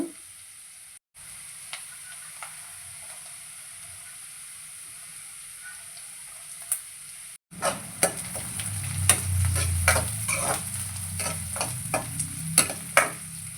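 Sweet corn kernels frying in a pan: a quiet low hum at first, then a steady close sizzle sets in, broken by sharp scraping taps of a utensil stirring the pan.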